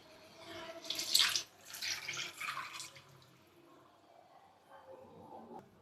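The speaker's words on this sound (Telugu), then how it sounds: "గ్రేవీకి సరిపడా వాటర్ని పోసుకుంటున్నాను" Water poured into a pan of fish curry gravy in short splashy bursts, followed by quieter stirring and liquid sounds, fairly faint.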